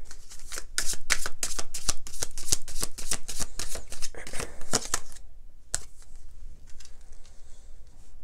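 Tarot cards are shuffled in rapid, crisp riffling bursts close up, followed by a few softer slaps and slides as cards are drawn and laid down.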